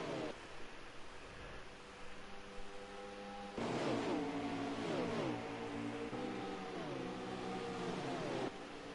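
Race car engines in a Cobra E Racing Series video game drone steadily with a noisy roar, then swell louder with rising and falling revving sweeps before settling back.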